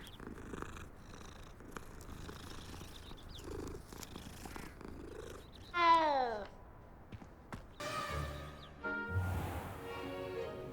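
A cat in the Hogwarts Legacy video game purrs softly and steadily, then breaks into a loud rising meow midway and several more meows near the end, close and alone.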